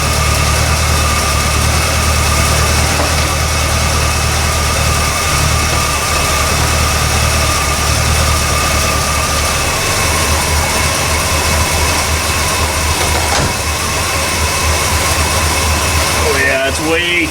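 An Oldsmobile 442 engine idling with the AC compressor engaged, a loud steady rumble running the whole time with someone talking over it.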